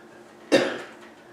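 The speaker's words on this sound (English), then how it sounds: "it appears that I'm going to have this cough for a couple more weeks" A single short, harsh cough from a person ill with pneumonia, close and fairly loud against a quiet room, with a brief raspy tail.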